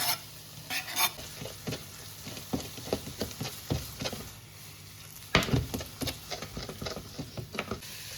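Carrot is tipped into a pan and stirred for pasta, giving quiet sizzling with repeated scraping and knocking strokes of a utensil against the pan and one sharper clatter midway.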